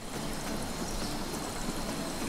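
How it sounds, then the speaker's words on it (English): A waterfall in the video game Guacamelee! gives a loud, constant rushing of water, a broad and steady roar that fills the scene with no talking. "Oh, it's just a waterfall."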